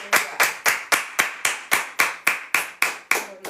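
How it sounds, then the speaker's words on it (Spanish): A church congregation claps for Jesus in a slow, unified rhythm, a dozen loud, sharp synchronized claps evenly spaced, close and crisp, with no talk over them. "Des aplauso a Jesús"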